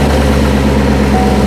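A C7 Corvette fitted with a newly installed Magnuson TVS2650 supercharger runs up close, giving a loud, steady, deep engine drone through the whole short stretch.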